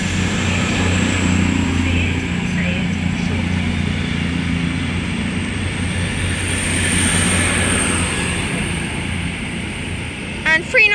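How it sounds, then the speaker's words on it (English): CrossCountry passenger train departing Stafford station on the West Coast Main Line, a steady loud rumble and engine drone with wheel noise, ending in brief squealing, with some talk over it. "And also departing is the 14:32 CrossCountry service from Manchester Piccadilly to Bournemouth."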